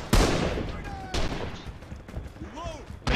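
Bursts of close gunfire crack out in the video game Rising Storm, a few sharp loud shots spaced apart with a player talking between them.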